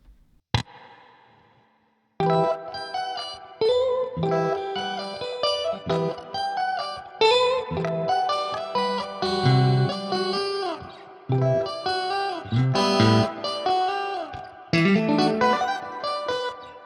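Electric guitar riffs through a plugin with light reverb, a single plucked note then a gap, followed by loud, rhythmic, percussive distorted chords and runs played alone.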